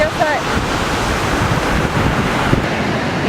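Big post-typhoon waves crash steadily along Aoshima's coast in Miyazaki, a loud, continuous roar of surf with gusting wind buffeting the microphone.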